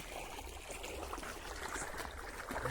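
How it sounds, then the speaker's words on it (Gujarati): Water from a long pipeline fed by a farm motor pump flows out into a field with a soft, steady trickling and gurgling, faint and continuous with no voices. "આ રીતે પાણી આવી રહ્યું છે."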